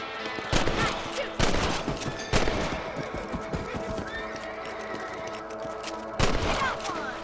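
Rifle shots fired at rabbits in the Western video game Red Dead Redemption, several sharp loud cracks spaced a second or so apart, with a horse whinnying and a musical score underneath.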